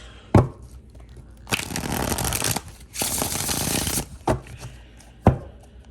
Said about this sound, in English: So let's shuffle this card first.